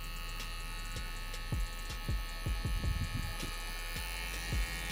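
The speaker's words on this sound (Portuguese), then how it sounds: "Vou trabalhar com a zero alta aqui da minha máquina, mas com a pontinha da minha máquina" Electric hair clippers with the blade set to the zero guard trim a fade haircut, a steady buzzing drone running throughout with small bursts as the clipper edge works along the head, close and fairly loud.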